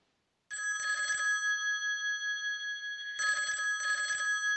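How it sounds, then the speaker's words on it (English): A telephone rings with a classic bell trill, loud and close, one long ring followed after a pause by two shorter rings in quick succession. "But PJ, I think I hear the phone ringing."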